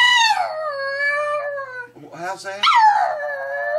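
A young puppy howls in long, wavering, drawn-out cries that break into yips and whimpers, close and loud. A person speaks briefly over it.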